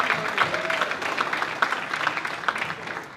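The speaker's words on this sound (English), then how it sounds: "Let's give him a round of applause." Applause from an audience at a Black History Month event after a speaker is introduced, steady mid-level clapping filling the whole moment with a faint murmur underneath.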